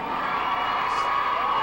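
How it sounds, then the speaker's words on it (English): A hometown crowd cheers for the Chariho Chargers at a 1987 high school basketball game against Westerly, a steady, loud roar of voices filling the gym with scattered whoops and shouts throughout. "It's a hometown crowd here, goes up in the cheers for the Chariho Chargers."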